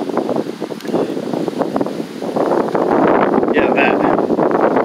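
Wind blowing hard outdoors on a hot day, a steady, loud rushing roar buffeting the microphone that grows stronger partway through, with a brief spoken remark over it.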